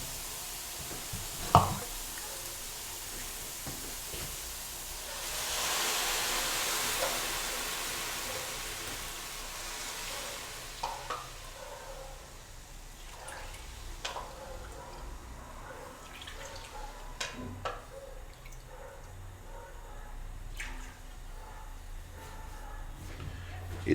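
Four cups of vegetable broth poured into a pot of bean soup, a soft rushing splash that swells for several seconds, then scattered drips and small clinks follow at a modest, close level.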